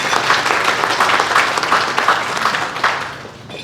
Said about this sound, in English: Glad I got applause before I started talking.